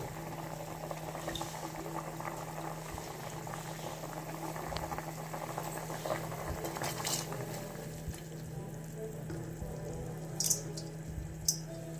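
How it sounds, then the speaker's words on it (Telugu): Water for vegetable rice is boiling hard in a cooking pot, rising and bubbling over. A steady, close, continuous bubbling hiss runs throughout, with a few brief sharper pops near the end and no voices. "చూసారా, ఇది ఎసరు అనేది పొంగిపోయింది."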